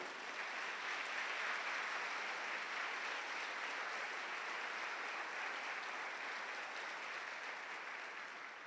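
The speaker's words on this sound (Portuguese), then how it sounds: "Se você é pedra viva, dá um aplauso ao Senhor, bem lindo." A church congregation applauds the Lord, a steady wash of many hands clapping throughout, sustained and fairly distant, tapering slightly at the end.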